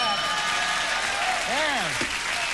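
A studio audience on a 1989 Late Night with David Letterman broadcast applauds in a steady, full wash of clapping. Midway a voice calls out briefly over the applause.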